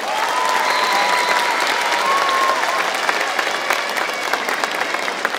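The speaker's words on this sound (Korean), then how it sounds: "여러분 큰 박수로 맞아주십시오." A large outdoor crowd applauds to welcome the mayor of Asan at the closing ceremony of the Yi Sun-sin festival, with steady, loud, dense clapping running throughout and scattered cheers above it.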